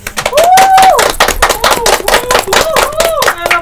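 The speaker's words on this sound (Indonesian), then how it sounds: "Tepuk tangan dulu guys." A small group claps at a podcast recording, with dense, irregular hand claps running steadily throughout while a voice and laughter carry over them.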